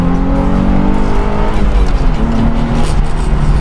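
A Nissan 350Z engine with a burnt clutch revs loudly and continuously nearby, its pitch rising and falling with throttle blips under a gritty exhaust rumble.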